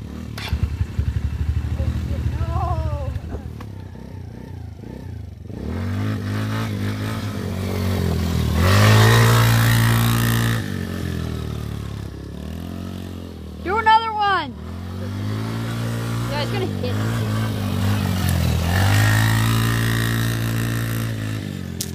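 A new four-wheeler ATV engine is cranked with an electric starter, catches, and revs and idles in loud, uneven bursts close by, with people talking over it.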